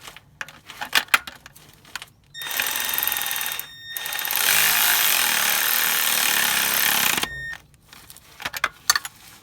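A power tool runs in bursts while the oil strainer is bolted back into a Peugeot 2008 1.2 PureTech engine, first a short whir, then a longer steady buzz, with metallic clinks and handling noises between.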